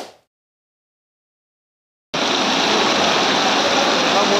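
After a brief faint sound and two seconds of near silence, the Penchalakona waterfall in Nellore bursts in as a loud, steady, broadband roar of falling water that continues to the end.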